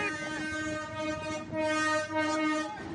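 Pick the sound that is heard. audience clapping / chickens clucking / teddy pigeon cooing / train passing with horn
train passing with horn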